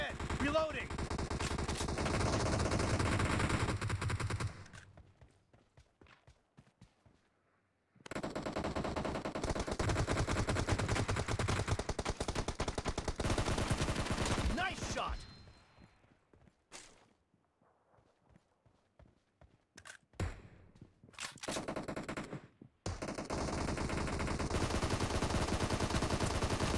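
Dense automatic gunfire and rapid shots fill a PUBG Mobile team deathmatch, in long loud bursts broken by quieter gaps with footsteps and a few isolated shots.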